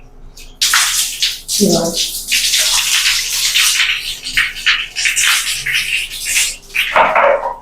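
Running water splashes steadily through hair while rinsing out Yusofine conditioner, a continuous broadband wash close by, with a brief spoken word partway through.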